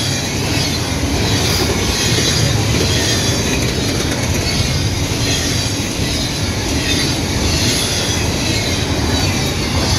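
A long Canadian Pacific and Union Pacific double-stack freight train rolls past close by, its cars rumbling and clattering steadily with faint metallic wheel squeals throughout.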